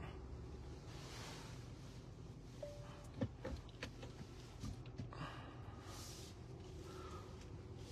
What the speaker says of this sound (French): en direct du port de Marseille